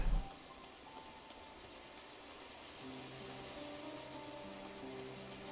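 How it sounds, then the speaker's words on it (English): Soft, steady patter of rain in a jungle in a video game, with faint tonal hums layered underneath, a brief thump at the start, no talking. "The rain's really nice."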